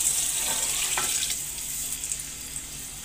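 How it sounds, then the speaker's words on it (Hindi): Chicken stock (yakhni) pours into a cooking pot as a steady hissing, splashing rush of liquid, loud and continuous with faint clatter beneath and no speech. "अब यखनी भी डाल देंगे इसमें।"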